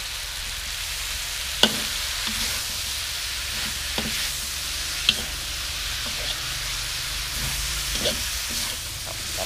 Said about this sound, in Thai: เอาใบกะเพราบางๆใส่แบบเต็มกระทะเลย